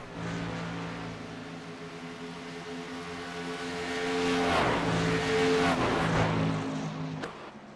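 Race trucks of the GAC Truck Series lapping at Homestead, a droning engine roar that swells as trucks pass closer, then fades slightly, heard from trackside distance.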